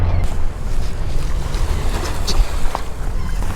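Ocean waves and wind on a Florida beach: a steady, loud rush of surf with wind buffeting the microphone, broad and continuous throughout, with no voices.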